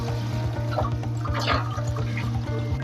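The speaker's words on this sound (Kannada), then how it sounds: "ಇವಾಗ ಹಾಲು ಹಾಕ್ಕೊಂತೀನಿ" Milk poured into a pan for suji kheer, a low steady liquid stream heard close under a constant background hum, with a brief splashy swell midway.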